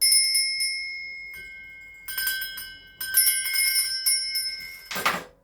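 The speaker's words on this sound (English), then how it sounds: "I'm going to be ringing my bells. This is just to cleanse the space around us." Several small bells ring out to cleanse a space, bright tinkling chimes struck repeatedly at close range, layered and sustaining, ending with a brief louder rustle or shake.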